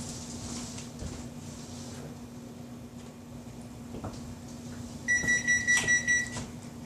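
A kitchen oven being set to preheat to 450 degrees gives a short series of electronic beeps, about six quick tones near the end, over a steady low hum of room noise.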